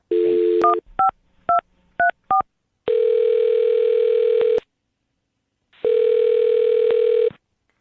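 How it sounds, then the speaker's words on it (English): A telephone dial tone gives way to five quick touch-tone beeps of a number being dialed, followed by two long, steady ringback tones separated by silence, clear and close. "I'm going to dial his phone number right now"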